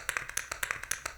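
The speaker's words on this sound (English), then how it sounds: "And then I found a spray can sound." A spray can hiss sample, pitched up, is used as percussion in a pop beat. Short crisp bursts repeat in a quick rhythmic pattern, fairly quiet, with no voices.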